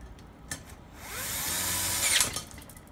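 Power drill with a weak clutch snugging a fixture down onto a 243/799 cylinder head ahead of porting work: a brief whirr, then a steady motor whine that rises in pitch and cuts off sharply, close and moderately loud with no voices.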